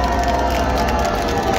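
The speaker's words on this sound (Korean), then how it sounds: "박수 한번 부탁드립니다" Crowd at a candlelight protest rally in Seoul, a dense sustained roar of clapping and cheering with no clear pauses, with a steady tone running underneath.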